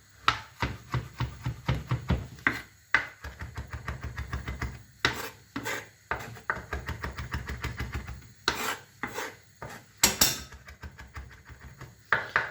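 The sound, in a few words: chopping fresh parsley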